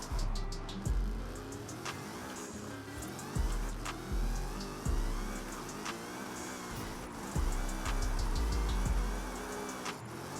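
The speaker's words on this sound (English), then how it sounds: "The supercharger in this car is actually extremely loud" Zenvo TSR-S drift build in Forza Horizon 5 running downhill, its supercharged engine droning loudly with repeated revving surges and gear shifts, a high supercharger whine sitting over the engine note.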